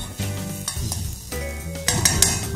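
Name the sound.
green chillies frying in a pan for chicken fried rice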